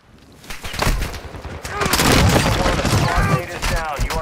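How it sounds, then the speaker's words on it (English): Heavy gunfire in a squad-based military shooter, with sharp repeated shots and bursts building into sustained near fire, under radio-style callouts and players talking. "You are taking effective fire."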